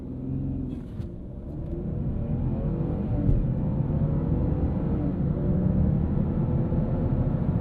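A 2017 Ford Fusion Sport with a twin-turbo V6 launches hard with traction control off. The engine gives a deep, steady, rising rumble heard from inside the cabin, with no talking.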